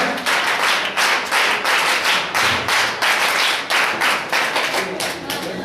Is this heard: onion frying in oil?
no